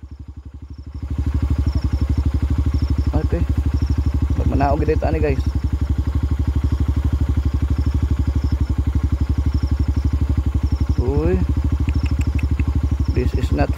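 A motorcycle engine idles steadily at night in a low, even putter throughout, close and loud, while a couple of people talk briefly over it.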